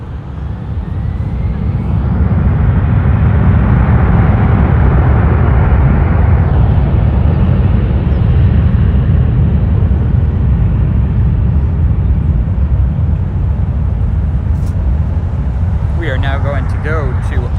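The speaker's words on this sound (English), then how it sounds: "A211 departing, you can feel the power is so immense that you can feel it in the ground." An airliner takes off at Los Angeles International Airport, its jet engines building into a loud, deep, sustained roar that dominates the scene, with a brief voice near the end.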